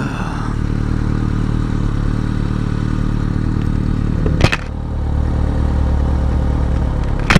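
Continuous engine drone and wind rush from a motorcycle being ridden, loud and close, with a brief sharp clatter midway and no talking.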